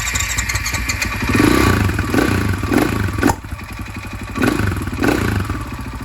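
A motorcycle engine that had been drowned in water, running after an oil flush with fresh motor oil. It idles steadily and loudly up close, with a mechanical clatter and a few brief rises in revs.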